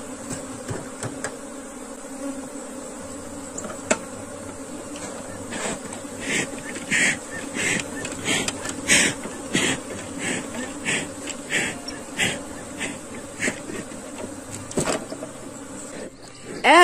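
Honey bees buzzing around a beehive, with a steady drone broken by many short, sharp buzzes as individual bees fly close past. It is fairly loud and near, and no one speaks.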